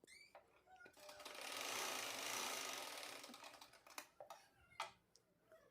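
A sewing machine stitches panels of a Rajputi kalidar lehenga together, with a steady whirring run of a couple of seconds, then scattered mechanical clicks and taps, all fairly faint.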